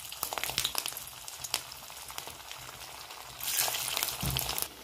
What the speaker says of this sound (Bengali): তেলটা গরম হয়ে গেছে, এবার তেলে একটা একটা করে দিয়ে ভেজে নেব।